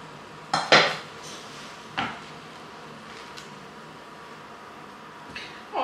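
Metal clinks and clatters as a lid goes onto a pot of mushroom soup with tomatoes on the stove: a couple of sharp, close bangs followed by fainter knocks in a quiet kitchen.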